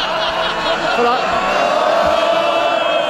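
Crowd of MPs cheering and bellowing in the House of Commons chamber, a dense, continuous roar of many voices with shouts rising and falling throughout.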